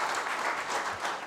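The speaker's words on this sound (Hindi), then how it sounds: "द्वितीय संस्करण के लिए तो ताली बजना चाहिए।" Audience at the launch of a book's second edition breaks into applause, a soft, distant wash of clapping that holds steady and fairly quiet throughout.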